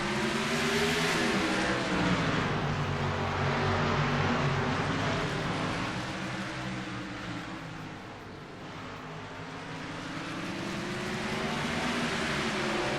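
Race cars in a sim racing game roar back to speed after a green-flag restart at Autodrome Chaudière, a dense, continuous engine drone with shifting pitch that dips briefly and then swells again, loud and unbroken with no talking.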